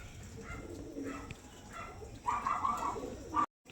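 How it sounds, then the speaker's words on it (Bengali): Domestic pigeons coo softly and repeatedly in low, throaty murmurs over a faint background rumble, a little louder toward the end. "কোয়ালিটি দেখুন পায়রার, ফুলশিরা কালশিরা ঘরের পায়রা"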